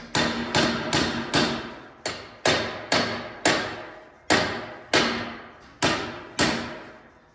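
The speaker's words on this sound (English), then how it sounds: "Just need a couple of hammers." Hammers strike metal parts being fitted together in a car workshop, with about a dozen loud, ringing blows in a steady, slightly uneven rhythm, each one decaying before the next.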